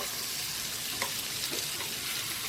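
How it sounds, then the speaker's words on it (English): Pork chops sear in a hot pan with a steady, fairly soft sizzle and occasional faint crackles, no voices over it. "It's just to sear in the juices to lock in that flavor"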